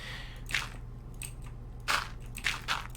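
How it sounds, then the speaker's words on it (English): A hammer breaks a 3x3 patch of gravel blocks in Minecraft SkyFactory 2.5, producing several short crunchy breaking bursts over a steady low hum. "So we can break a 3x3 at once, with this hammer."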